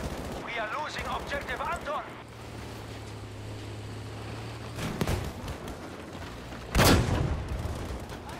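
Gunfire in the World War II shooter Battlefield V, with two loud, sharp gun blasts standing out near the end over a steady background rumble of battle ambience, preceded briefly by a voice.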